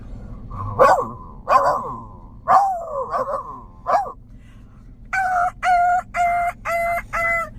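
A pack of street dogs gives a run of sharp, loud barks in quick bursts, followed by a rhythmic series of higher, harmonic calls, close by.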